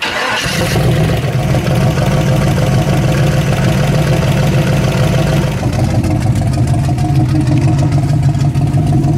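A turbocharged car engine runs steadily and loud throughout, a low continuous rumble that shifts slightly in tone partway through, with no talking.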